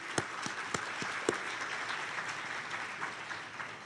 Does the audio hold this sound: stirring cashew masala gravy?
no